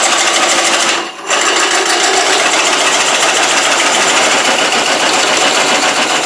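A wood lathe turns at 406 RPM while a coring tool cuts into a dry walnut burl bowl, a loud steady whirring drone that drops out briefly near the start and then resumes unbroken.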